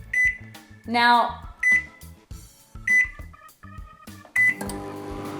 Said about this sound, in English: We're then going to pop this into the microwave for 45 seconds